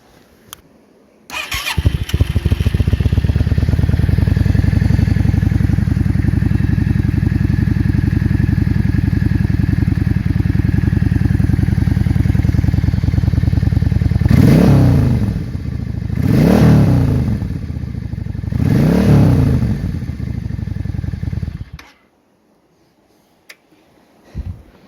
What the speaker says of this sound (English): They don't have a baffle in them, so they sound pretty awesome, and we'll fire it up so you can hear it.